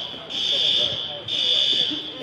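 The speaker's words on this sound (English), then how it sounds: "that's a fire alarm" A fire alarm buzzer goes off in a gym during a provincial quarterfinal game, sounding as two long, piercing electronic tones with a short break between them, over crowd chatter and nearby voices.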